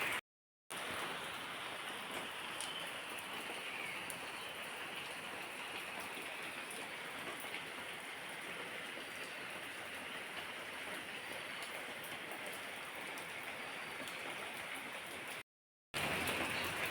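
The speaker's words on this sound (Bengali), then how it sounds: "বৃষ্টিটা কমে গেছে," Steady rain falls continuously on a rainy morning, a dense even hiss of drops on surfaces close by, with no voices and only brief gaps at the start and end.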